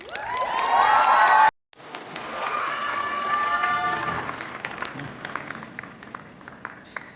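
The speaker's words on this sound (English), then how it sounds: "let us all give a huge round of applause to our finalists" An audience at the Miss Kohima 2025 pageant cheers and applauds the top 8 finalists, a broad crowd roar that follows a brief sharp burst and then gradually fades.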